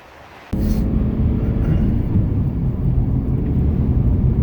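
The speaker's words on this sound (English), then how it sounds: "All right, driving the 2004 Toyota Rav4." A 2004 Toyota RAV4 with 150k miles drives down the road, heard from inside as a steady loud low engine and road rumble that starts abruptly after a brief quiet moment.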